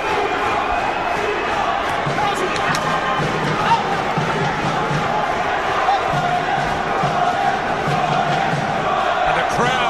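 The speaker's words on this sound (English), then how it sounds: "And a crowd now getting behind Munroe" A large boxing crowd roaring and cheering for Rendall Munroe during a twelve-round fight against Simone Maludrottu, a steady, loud wash of voices and shouts that holds without a break, with a commentator's voice faintly over it.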